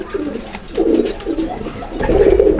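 Teddy pigeons cooing nearby in a loft, a few soft, throaty coos in close succession, clear and fairly loud with no voices.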